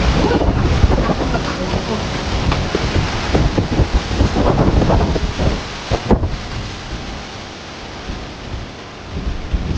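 Strong typhoon wind from Typhoon Uwan gusts and roars against the microphone, a loud continuous rush with buffeting surges and rattling, with voices talking underneath.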